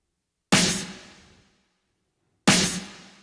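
Two unprocessed snare drum hits from an Afro House mix, low end left uncut, each a loud broadband crack with a long ringing decay, spaced about two seconds apart with silence between.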